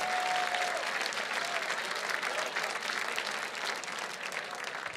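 A crowd at The Mountaineers' 2024 fundraising gala applauds its donors, a sustained wash of clapping from many hands that holds steadily and tapers slightly toward the end.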